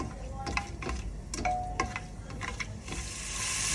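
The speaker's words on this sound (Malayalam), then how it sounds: "ചൂടാക്കി കഴിയുമ്പോൾ അതിനകത്തേക്ക് ഏലക്ക, കറുവാപ്പട്ട, പിന്നെ ഗ്രാമ്പു. എന്നിട്ട് ഇതൊന്ന് ഇളക്കി കൊടുക്കുക." Whole cardamom, cinnamon and cloves stirred into hot oil for a pressure-cooker biryani, giving a soft sizzle with scattered clinks and scrapes of a spoon against the pan, close and moderately quiet.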